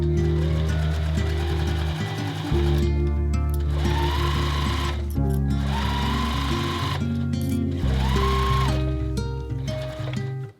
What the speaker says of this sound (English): we're going to take this over to our sewing machine and we're going to sew the same thing right across